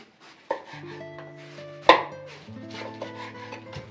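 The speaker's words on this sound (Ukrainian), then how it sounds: "Капусту нарізаємо соломкою." A few sharp knife chops against a board as cabbage is sliced into thin strips, spaced apart, with faint tonal background music or hum underneath; close and fairly quiet.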